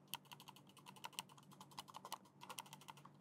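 Rapid, crisp main-button clicks from a Delux M800 Pro mouse, close and fairly quiet, in an irregular string of single and doubled taps with no talking.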